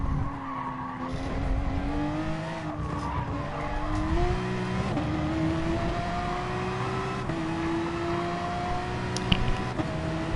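A Gr.3 race car in Gran Turismo Sport laps Suzuka with a continuous high engine whine that rises and falls through gear shifts. Tires squeal and skid under the engine, all steady and close.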